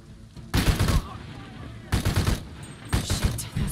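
Bursts of rapid automatic gunfire in Shadow of the Tomb Raider, three loud close volleys separated by brief pauses, with some game background sound between them.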